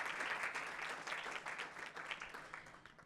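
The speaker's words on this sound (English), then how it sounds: "If we can give them a round of applause for volunteering tonight." Audience applause at a city budget town hall, a steady wash of many hands clapping together for the evening's volunteers, moderately close and sustained without any talk over it.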